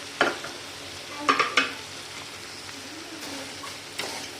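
Fried cauliflower pieces drop into a hot pan of sauce and get stirred, with a few clattering scrapes and tosses over a quiet sizzle, near and fairly soft.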